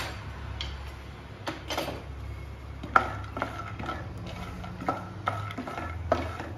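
Peanuts fry in ghee in a pan, a soft continuous sizzle broken by scattered clicks and scrapes as they are stirred, close and fairly quiet with no talking.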